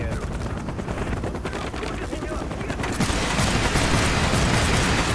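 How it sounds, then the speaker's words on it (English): Helicopter rotor drone and dense rapid gunfire from a Call of Duty Black Ops game, a steady loud mix of bursts that swells after a few seconds, with no clear speech. "Why can't I take down that helicopter?"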